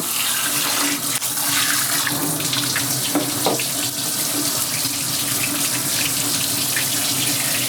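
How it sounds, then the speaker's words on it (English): A tap runs steadily to rinse co-wash out of hair, a loud, even gush of water splashing throughout with no break and no talking. "So I'm going to turn the water back on."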